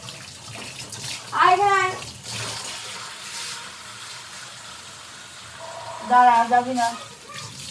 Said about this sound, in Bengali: এখন একটু মুখটা ধুয়ে দেবো